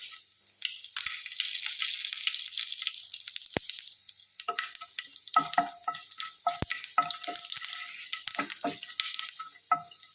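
Cinnamon sticks, a piece of bay leaf and fennel seeds hit hot oil with a sudden loud sizzle that settles into crackling and popping, with sharp spits and stirring taps scattered over the last seconds.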